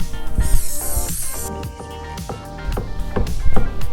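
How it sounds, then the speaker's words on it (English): Clear shellac aerosol spray released in a steady hissing burst for about a second and a half, followed by several sharp knocks and handling sounds on a dresser during a furniture refinishing job. "spot treated them with a clear shellac spray"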